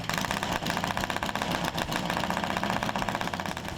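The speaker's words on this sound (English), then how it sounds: "It's got a set of straight through pipes on it, so it's extremely loud." A loud 650 parallel twin motorcycle engine with straight-through pipes idles with a raw, rapid throbbing exhaust pulse, steady and close, with no voices.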